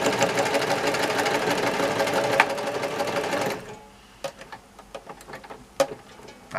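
A sewing machine stitches a quilted bag seam, a loud, close, rapid rattling run for about three and a half seconds, then stops, leaving quieter scattered clicks and handling taps.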